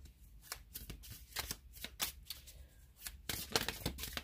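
Tarot cards are shuffled and drawn in a rapid run of crisp riffling and slapping bursts, close up and fairly quiet, with a louder flurry near the end and no talking.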